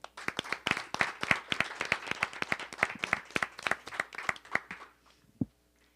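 An audience at a board of education meeting claps in a dense, even burst of applause lasting about five seconds, then quickly thins out and stops.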